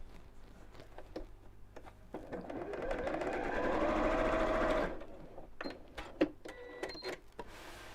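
A sewing machine stitches through folded fabric in one steady, whirring run of a few seconds, close by, with a few clicks and handling noises from the machine before and after.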